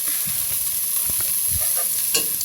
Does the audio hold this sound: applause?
no